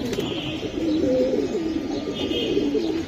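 Rabbani line silver pigeons coo continuously at a pigeon market, a steady chorus of overlapping low, rolling coos close by with faint chirps above, no talking.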